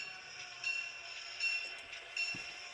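A small Walthers model freight train hums along its track with a steady whine, with periodic clicks and faint squeals as it rolls past.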